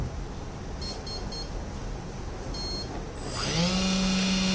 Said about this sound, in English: So we need to get the second beeps.